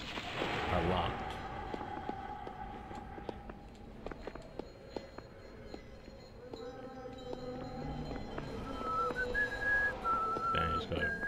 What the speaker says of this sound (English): Man, he's gonna whistle.